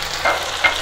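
Tilyar karahi, starling meat cooked in yogurt and oil, being stir-fried as green coriander is mixed in; a brief soft sizzle with two short scraping stirs, close and moderately loud.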